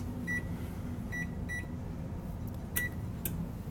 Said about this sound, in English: Now I'm going to preheat the oven to 400 degrees.